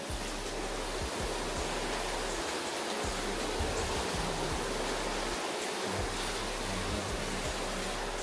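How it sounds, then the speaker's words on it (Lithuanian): A stream in the Birštonas countryside flows steadily, a continuous broadband rush of water holding at an even level with no talk over it. "paklausyti vandens"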